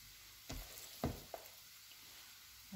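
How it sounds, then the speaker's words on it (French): Minced meat frying in hot oil in a pan, a steady close hiss of sizzling broken by a few dull clunks, with no voice. "Je vais venir rajouter du coup ma viande hachée."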